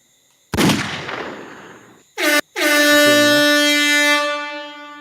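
Loud horn blasts in three bursts, a broad noisy onset followed by two sustained tonal honks, the last held for about two seconds, heard alone without talking.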